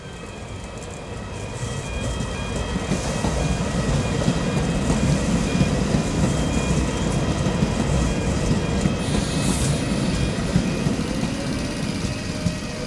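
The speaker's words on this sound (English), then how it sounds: "We begin on the 7th of March at Bank Foot with this service from Newcastle Airport." A Tyne and Wear Metro train at Bank Foot station on a service from Newcastle Airport, rumbling close and loud with a steady rolling roar and faint track clatter and tonal whine throughout, no talk.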